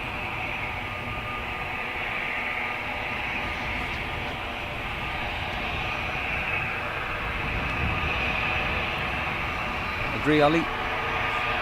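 An Airbus A320 departing Dublin for Geneva makes a continuous engine roar with a steady high whine layered on top. A brief spoken remark comes near the end.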